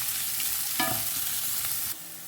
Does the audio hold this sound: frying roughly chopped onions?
yes